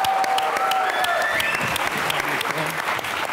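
Studio audience applause on a comedy talk show as a guest from Karachi is introduced, brisk dense clapping throughout, with a tonal musical sting and some voices underneath.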